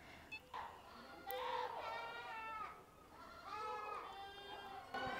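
A dairy goat at a goat show bleats several times in loud, wavering cries under the noise of an indoor show crowd, with people talking in the background.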